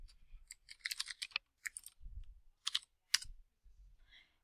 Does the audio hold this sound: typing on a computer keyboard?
yes